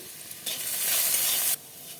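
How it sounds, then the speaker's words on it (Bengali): Potatoes hit hot oil in a wok with a sudden loud sizzle that holds steady for about a second, then cuts off sharply, leaving a faint background hiss. "এই তেলে আলুগুলো ভেজে নেব আলুতে অল্প লবণ দেব"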